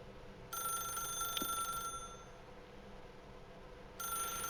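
Telephone ringing in the video game The Stanley Parable: Ultra Deluxe, an electronic bell trill lasting over a second, a pause, then ringing starting again, heard alone over a low background.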